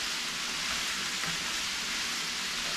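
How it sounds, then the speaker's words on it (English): A Hawaiian stir fry sizzles hard in a pan, giving a dense, even hiss that stays close and constant, with no voices over it. "we're going to stir this until it gets some color on it"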